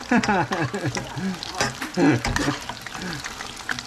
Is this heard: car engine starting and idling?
no